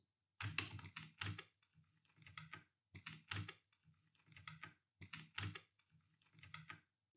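Computer keyboard typing while naming a new folder for a Spring Boot microservices project: quiet, close clusters of key clicks in three separated bursts with pauses between.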